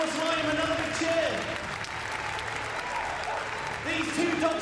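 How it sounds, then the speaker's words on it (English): A crowd at an RAF display cheers and applauds for the RAF police dogs: a loud, sustained wash of clapping with a voice over a loudspeaker talking above it. "another big cheer"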